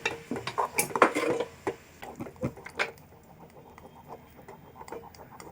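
Quiet clinking and scraping of a utensil stirring moong dal and sago inside a metal pot, irregular taps that are busier at first and then thin out.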